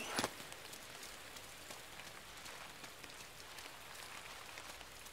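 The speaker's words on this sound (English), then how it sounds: "It's raining." Rain pattering steadily in the video game Inside, a quiet even wash of drops on surfaces after a brief sharper tap at the start, with no voices.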